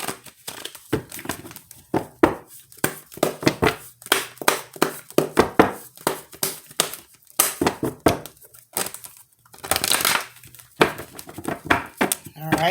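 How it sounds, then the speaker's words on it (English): Rapid papery riffling and crisp slaps of tarot cards being shuffled, in quick bursts with short pauses, close by; faint talk occasionally underneath. "I also pre-shuffle the cards"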